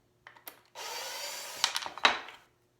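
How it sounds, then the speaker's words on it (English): Screws backed out of wood with a power driver, short whirring bursts followed by a sustained grinding run and a few sharp ticks as the screws come loose, close and fairly quiet. "I'm going to take these screws all the way out."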